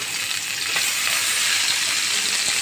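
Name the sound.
chopped onion frying in hot oil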